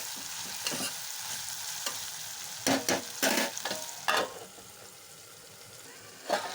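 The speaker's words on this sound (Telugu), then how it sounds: "దీంట్లో టమాటాలు టమాటాలు వేసుకొని బాగా కలుపుకొని ఒక ఫైవ్ మినిట్స్ అయితే మళ్ళీ ఉడకనివ్వాలి" Bitter gourd and tomatoes frying in a pan while being stirred, a soft steady sizzle broken by several loud scraping strokes of the spoon against the pan.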